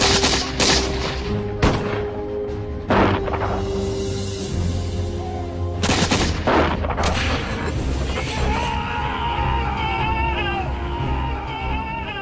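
Musket gunfire crackles through a fierce battle between Hessian soldiers and rebels, with sharp repeated shots and booms ringing out irregularly over a dense, steady din of crowd and combat noise.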